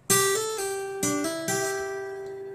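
Fast hammer-on notes on a fingerstyle acoustic guitar ring out one after another, with a few quick plucks and slurred notes left to sustain, played clearly and alone.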